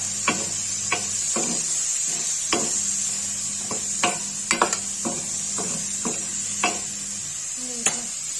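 Tomatoes sauté in a pan for palak paneer kofta curry, a steady background sizzle broken by repeated sharp spatula taps and scrapes against the pan, close up and without talk.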